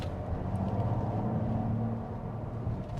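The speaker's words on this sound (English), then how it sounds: "you definitely hear that turbo spool up and blow off" A 2026 Mazda CX-90 Premium Sport mild-hybrid turbo engine drones steadily from inside the cabin under throttle, a low rumble holding for a few seconds before easing off slightly, with no talk over it.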